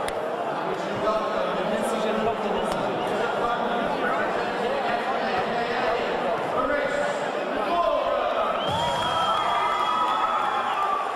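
A boxing arena crowd cheers for a boxer as he enters the ring for a Commonwealth light middleweight title fight. The cheering is loud and sustained, with scattered shouts and claps, and a commentator talks over it.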